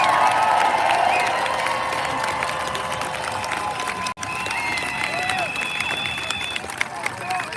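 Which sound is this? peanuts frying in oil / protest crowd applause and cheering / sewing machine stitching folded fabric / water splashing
protest crowd applause and cheering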